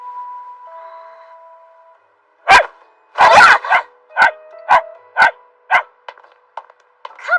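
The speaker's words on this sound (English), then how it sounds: "Oh, it's a puppy! He's so cute!" A cartoon puppy in an English-dubbed anime lets out a quick string of about eight sharp, high yips in an uneven rhythm, close and fairly loud, after a soft steady tone.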